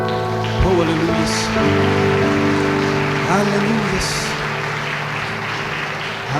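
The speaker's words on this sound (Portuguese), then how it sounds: "Você pode aplaudir o Senhor" A church congregation applauds during worship, a rain-like wash of many hands clapping beneath a voice calling out praise over sustained music.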